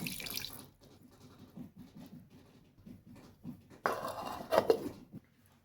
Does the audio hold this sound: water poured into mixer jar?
yes